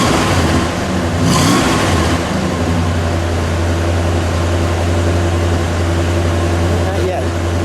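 A 1960 Chrysler 300F convertible with a 413 engine and dual exhaust idles with a deep, steady rumble and gives one short rev early on. Voices talk over the engine.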